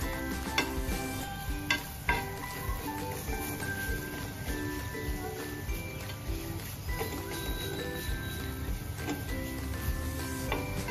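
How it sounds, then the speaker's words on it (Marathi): Turmeric, masala and garam masala sauté in a pan with a low, steady sizzle, while the spoon scrapes and taps against the metal at irregular intervals. "थोडीशी हळद, थोडासा मसाला आणि अर्धी चमची गरम मसाला टाकणार आहोत आणि ते चांगलं असं परतून घेणार आहोत"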